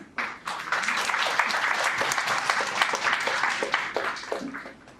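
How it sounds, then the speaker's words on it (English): Audience in a lecture hall giving a warm round of applause to welcome a university lecturer, dense steady clapping that swells quickly and tapers off near the end. "let's welcome him with a big round of applause"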